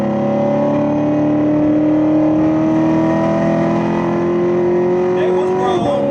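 C7 Corvette accelerating hard from inside the cabin, a loud engine note climbing steadily in pitch for several seconds before a sudden shift near the end, with talking underneath.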